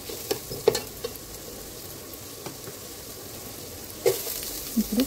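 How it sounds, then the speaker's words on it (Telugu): Onions stirred and sautéed in an electric rice cooker, a soft, even sizzle with scattered scraping taps of a spoon and a louder cluster of stirring near the end. "ఇలా మిక్స్ చేసుకున్న తర్వాత ఈ ఆనియన్స్ మనకు ట్రాన్స్పరెంట్ అవుతున్నాయి"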